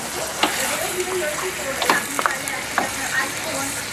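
Beef bhuna sizzling in a hot pan, with a steady frying hiss broken by several sharp scraping stirs of a spatula, close and fairly loud.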